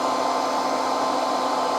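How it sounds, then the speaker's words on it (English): A blow dryer runs loud and steady as it heats shrink wrap on a golf shaft, a constant close whooshing roar with a fixed motor whine. "there's a lot of noise right now from the blow dryer"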